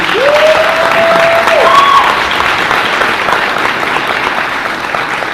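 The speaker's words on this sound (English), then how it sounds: "Everybody please give her a round of applause, please." Loud, sustained crowd applause for a panelist introduced at a university panel discussion, with a brief whoop or whistle rising over the clapping near the start.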